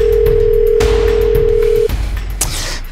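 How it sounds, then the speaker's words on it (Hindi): A telephone call rings out unanswered, a single long steady tone followed by a short silence and faint background noise, close and loud with no talking. "फोन लगा बेटा, फोन लगा, इसे फोन लगा।"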